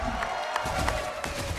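Crowd at an esports match, Aura Fire versus EVOS Legends in Mobile Legends MPL ID Season 1, keeps up a steady wash of applause and cheering with a few sharp claps and shouts standing out.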